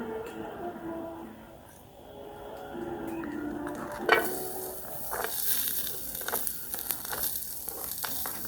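Food sizzles in a hot frying pan on a stove, a steady hiss that swells louder partway through, with occasional clatters and stirring noises.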